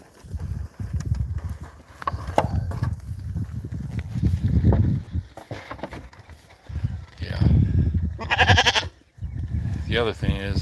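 Sheep on a homestead bleat at evening feeding time among grain troughs and larger steers, giving several wavering calls of varying loudness, one loud and close near the end, over shuffling livestock noise.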